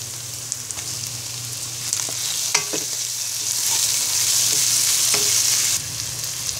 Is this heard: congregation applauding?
no